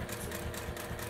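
A sewing machine briefly stitches along the long edge of a pleated fabric face mask, giving a faint, steady mechanical hum.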